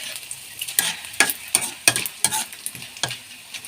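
Muri, puffed rice, sizzles in hot oil while being stirred, with a rhythmic series of sharp scraping strokes about every third of a second over a constant low crackle, close and with no voices.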